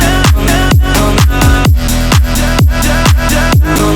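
A loud house drop hits with punchy kicks on a steady four-on-the-floor pulse, chopped vocal fragments and layered synths, heavily compressed and sidechained so the whole mix pumps with each beat.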